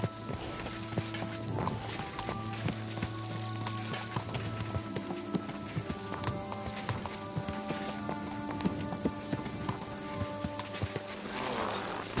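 A horse's hooves clip-clop in a steady walking rhythm while being ridden in the video game Kingdom Come Deliverance II, close and continuous over a low ambient bed, with no talk.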